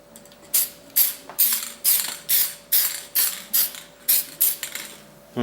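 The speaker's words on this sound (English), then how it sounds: "So we're ready to spray the 2nd coat." Aerosol conformal coating sprayed onto electronics for a second coat, heard as about a dozen short, close hissing bursts at a steady rhythm of roughly two per second, with a faint steady hum underneath.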